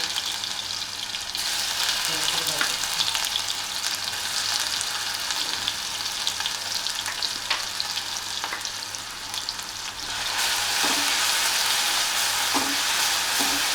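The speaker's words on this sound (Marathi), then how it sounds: "तेल तापलं की त्याच्यामध्ये हिरवी मिरची आणि लसूण याची पेस्ट टाकते" Green chili and garlic paste frying in hot oil for Maharashtrian bottle gourd vada, a steady loud sizzle throughout with occasional stirring scrapes, brightening toward the end.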